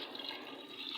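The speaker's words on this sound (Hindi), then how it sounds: "तो इस हिसाब से मैं इसके अंदर पानी डाल दूंगी" Water is poured into a pot of soaked rice while khichdi with chana dal is made, a steady close splashing and filling stream that runs throughout without talk.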